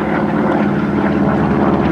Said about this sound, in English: Now watch for the airplane on your right to be pursued by the airplane on your left.